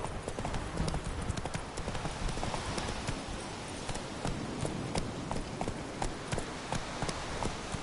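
Horse hooves clip-clop in a steady, fast rhythm against a dense, noisy background, continuous and fairly close throughout.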